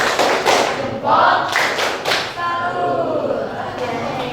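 A classroom of students performs a rhythmic clapping routine, several loud claps and thuds in patterned bursts with voices chanting along.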